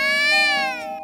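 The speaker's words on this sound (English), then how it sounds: "You hear that? That's my cat." A cat gives one long, clear, drawn-out meow indoors, close and fairly loud, falling slightly in pitch toward the end, with no other sounds around it.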